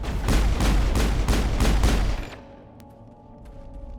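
Rapid, loud bursts of gunfire with new ammo in the Mass Effect video game pound out in a steady rhythm for about two seconds, then cut off, leaving a quiet tail with a few faint clicks.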